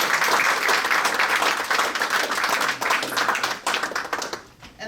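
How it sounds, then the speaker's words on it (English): A room of people gives a round of applause at a community graduation event, loud dense clapping that gradually thins and tapers off toward the end. "Can we give them a round of applause?"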